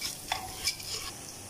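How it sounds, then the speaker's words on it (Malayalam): Ingredients for egg rice stir-fried in a pan: a few quick scraping stirs at a soft sizzle, close and fairly quiet, with no voices. "ഇത് 2 മിനിറ്റ് ഇങ്ങനെ വറുത്തെടുക്കാം"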